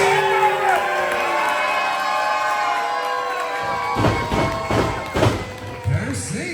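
A wrestling match crowd cheers and shouts steadily. Several heavy thuds land near the end, and a voice talks over the noise.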